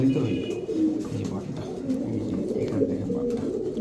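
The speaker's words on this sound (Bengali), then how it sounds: "এটা ক্রিমবার রেসার নর কবুতর" Soft, low cooing of a cream-bar racer cock pigeon repeats through the clip, with murmured voices and handling noise close by.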